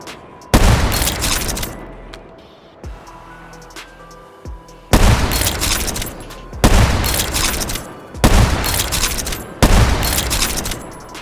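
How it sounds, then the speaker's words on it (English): Booming single shots from the XPR-50, a .50 BMG bolt-action rifle that cycles automatically, from Black Ops III in the VR shooter H3VR; six heavy blasts spaced a second or more apart, each with a long echoing tail. "it's a bolt action rifle that chambers run automatically, so it's kind of semi-auto"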